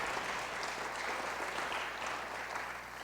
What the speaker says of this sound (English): So if you guys could give them a round of applause